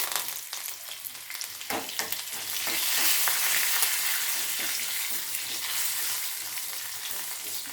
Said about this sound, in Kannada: ಈ ಬೆಳ್ಳುಳ್ಳಿ ಸ್ವಲ್ಪ ಹುರಿದ್ಮೇಲೆ ಇದಕ್ಕೆ ನಾವು ತೊಗೊಂಡಂಥ ಕರಿಬೇವನ್ನು ಕೂಡ ಹಾಕ್ರಿ.